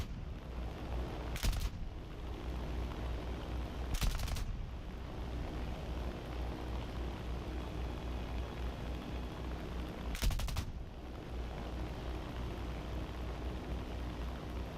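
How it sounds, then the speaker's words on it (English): Three sharp bursts of gunfire from War Thunder gameplay, at high altitude, each loud and brief, cut through a steady, droning engine background with long gaps between them; nobody speaks. "Everyone is shooting at Bull now."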